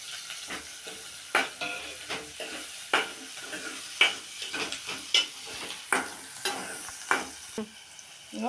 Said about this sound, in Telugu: ఇప్పుడైతే కరివేపాకు వేస్తున్నా